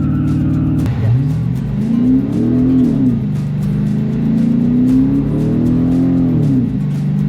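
A 1978 Ford Scamper van's engine revs hard and holds a steady, wavering high rev during a weak burnout, loud and close with no speech over it.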